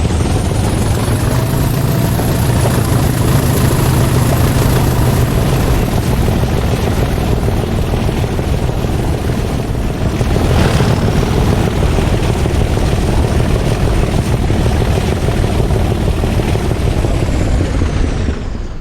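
Railhead treatment train 304 pulls away from Goughlin, a loud, steady diesel locomotive drone with a deep low rumble and a hissing high whine, holding strong throughout with a brief surge midway.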